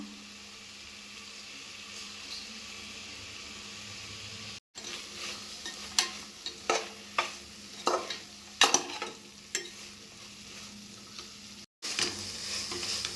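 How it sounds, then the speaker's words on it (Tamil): Vegetables sauté in a pan with a steady soft sizzle, while a spoon stirs them in a series of sharp scraping clacks near the middle of the stretch, close and fairly quiet, with no talking. "இந்த காய் 2 நிமிஷம் வதங்கியிருக்கு நல்லா"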